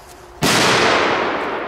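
One Polish firecracker explodes with a sudden, powerful crack, and a thick, booming reverberation lingers afterward and slowly tails off.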